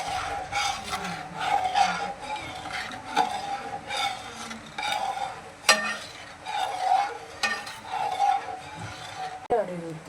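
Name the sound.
stirring lentil payasam with coconut milk in a pan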